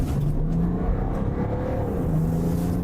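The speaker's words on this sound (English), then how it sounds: "Let's try pressing a bit and see how the engine performs." A BMW X3 G01 with a 3.0-litre diesel engine accelerating, a close, steady low drone with a faint tone that slides upward and then settles, heard from inside the cabin.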